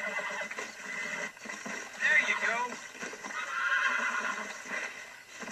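A horse being broken in the video game Red Dead Redemption neighs and whinnies shrilly near the middle, with hoof clops and a brief spoken voice around it.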